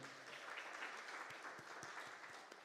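A church congregation applauds in a steady, dense wash of clapping that carries on for the whole stretch, moderately distant and even in level.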